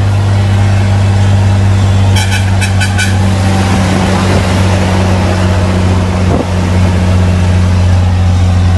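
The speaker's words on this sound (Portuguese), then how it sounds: "O caminhão que é subidor, ele sobe de quinta reduzida aqui a 60 por hora." A truck engine drones hard as it climbs a hill at night in fifth reduced gear at about 60 km/h. The low, loud, steady rumble is heard from inside the cab, with brief high clicks partway through.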